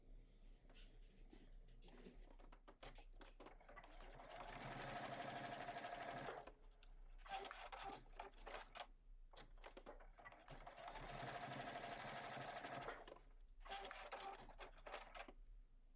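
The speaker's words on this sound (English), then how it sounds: "I'm going to head to my sewing machine, 1/8 of an inch seam allowance. I'm going to stitch across here and stitch across here." A sewing machine stitches a narrow 1/8-inch seam on a bag panel in two quick close bursts of rapid whirring, with short pauses of handling noise between them.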